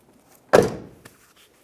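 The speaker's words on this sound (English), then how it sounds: "We can close our door." The door of a 2001-2006 Chevrolet Silverado 2500 pickup being fitted for a cab corner replacement swings shut with a single solid thunk and a brief rattle after it, close by and alone.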